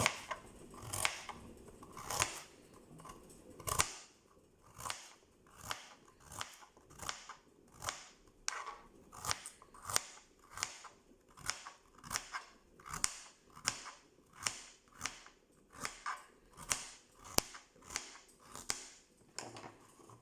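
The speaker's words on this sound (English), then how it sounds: "Now that's our carrots peeled. And all I'm going to do is just cut them." A knife chops peeled carrots on a cutting board for a Finnish salmon soup, a long series of crisp, close thuds at a steady, brisk rhythm with slight crunch.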